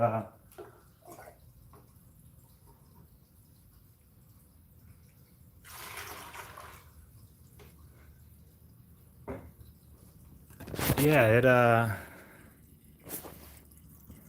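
Water runs out of an improvised alchemical apparatus of hoses and vessels, giving sparse, quiet drips and a couple of brief gurgling gushes, with someone speaking briefly nearby.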